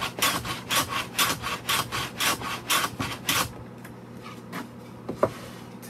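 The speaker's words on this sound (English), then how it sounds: "So the trick is we're just going to shoot it till it fits." A hand plane shoots the end of a wooden tool tray handle, about a dozen rhythmic rasping strokes close by, then a pause with a few light knocks as the fit is tested.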